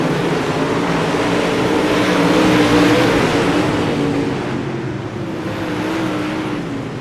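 Dirt super late model race cars roaring around Lernerville's dirt track in a Slinging Dirt Series race, a loud continuous engine drone with rising and falling revs from several cars, no talk.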